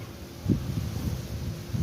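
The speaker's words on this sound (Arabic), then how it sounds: "هوا فظيع هوا فظيع في مركز دمنهور" Strong wind roars and buffets steadily during a storm in Damanhour, Egypt, with gusty thumps against the microphone and a low rumbling rush throughout.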